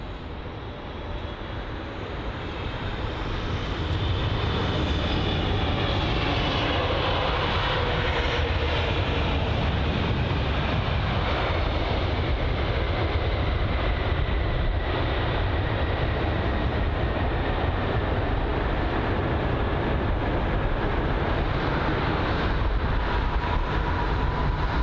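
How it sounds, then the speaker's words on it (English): Turkish Airlines Boeing 777 landing on runway 27 right at London Heathrow, a loud, steady jet engine roar that swells over the first few seconds and holds near and constant throughout. "We've got these Turkish Airlines Boeing 777 there,"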